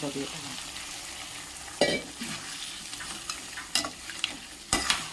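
Country chicken pieces frying in a pan for a roast, a steady low sizzle broken by a few sharp stirring scrapes and clatters, close and moderately loud, with no voices.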